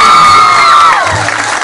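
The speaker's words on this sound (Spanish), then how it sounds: "Así que fuerte el aplauso para todos ellos." A crowd at a soccer champions' award ceremony in a Puerto Rico park cheers and whoops loudly, with some scattered clapping, for about two seconds.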